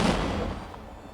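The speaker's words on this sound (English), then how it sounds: "Cannon blasts are returned by the English ship." Cannon fire in a reenactment of the 1776 bombardment of Perth Amboy: one heavy blast hits right at the start, then its rumble fades away over about a second.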